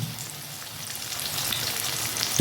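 Snakehead fish frying gently in a pan, a steady soft sizzle and crackle close by that builds slightly, with no talking.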